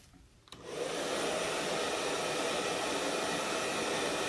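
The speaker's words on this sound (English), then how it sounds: "And let me just dry it again." A hair dryer switches on after a brief quiet moment and runs with a steady, loud, close rush of air while drying silk screen paste.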